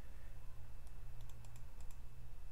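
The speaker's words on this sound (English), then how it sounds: "I'll type out the fetch myself." Code typed on a computer keyboard: a handful of quick, light keystrokes in short bursts, faint and close over a low steady room hum.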